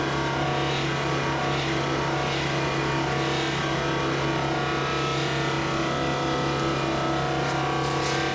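A rotary polishing wheel fitted with a sanding disc gives a loud, continuous motor whine and grinding hum that holds steady throughout, with no talking.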